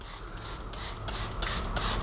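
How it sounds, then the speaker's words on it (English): Several short bursts of hissing spray in a regular rhythm, close by, growing slightly louder toward the end, as D-Con clay lubricant is sprayed onto the white paint of a Volkswagen Scirocco. "This is the D Con Clay Lube. We spray it"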